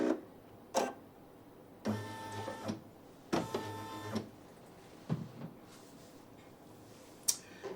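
A Brother PE-900 embroidery machine stitches in bursts, its needle chattering in steady runs separated by short pauses and clicks, close up and fairly quiet with no talk.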